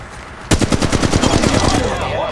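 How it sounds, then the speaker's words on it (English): Enemy automatic gunfire in the mobile battle royale game Apex Legends Mobile breaks out abruptly as a loud, close, rapid string of shots that keeps going to the end, with a brief tonal game effect at the finish. "The enemies are shooting at me."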